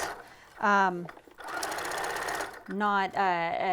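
A sewing machine runs a half-inch seam in one brief, steady whirring burst, close by, with a person talking just before and after it.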